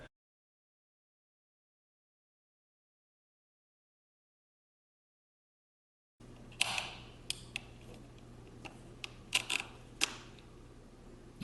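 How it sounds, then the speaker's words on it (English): Close, quiet clicks and ticks come from a Minolta MD 50mm f2 lens being rotated by hand during disassembly, its stop-down lever working, arriving after a long stretch of silence. "kind of open up the lens using the stop down lever and just rotate this around until I find the position"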